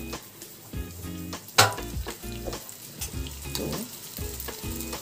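Garlic, ginger and green chilli paste fries in leftover oil from frying paneer for palak paneer, a steady close sizzle with stirring scrapes and a sharp clatter partway through.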